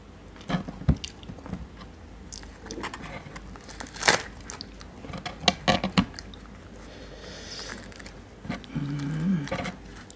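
Close-up eating of Monthong durian, crispy outside and soft inside: wet bites, crunches and squishy chewing come in irregular bursts, with quieter smacking between them and a crinkling rustle near the end.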